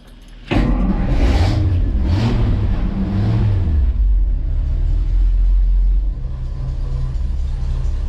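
A V8 farm truck engine, a 313, cranks and catches after the key is turned in neutral, a sharp start then loud revving surges that settle into a steady low rumble, close by.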